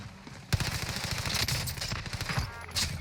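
An Owen gun firing automatic bursts in a shooter game, a rapid, even stream of sharp cracks that runs for about two and a half seconds, fairly faint and distant.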